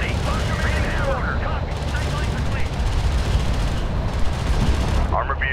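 An enemy railgun firing in the real-time strategy game Homeworld: Deserts of Kharak, heard as a dense, continuous roar of heavy weapons fire with booming impacts throughout and faint voice chatter mixed in.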